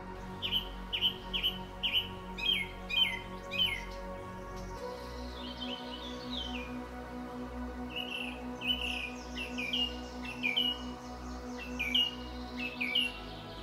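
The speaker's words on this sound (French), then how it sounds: "Le chant des oiseaux, si mélodieux." Birds chirping in spring in quick repeated phrases, bright and fairly clear, over a steady low hum, the calls coming in bursts throughout.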